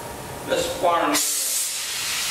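A glassblowing torch flame hisses steadily while annealing a repaired piece of scientific glassware, a broad close roar that brightens and steadies partway through, with a brief voice near the start.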